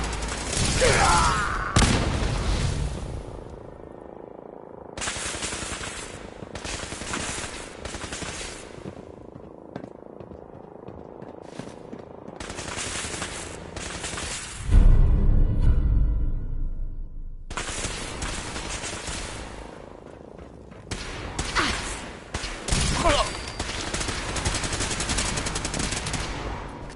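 Bursts of automatic gunfire from the video game Fallout 4, loud and close, arriving in rapid volleys separated by short quiet gaps, with a heavy low boom near the middle.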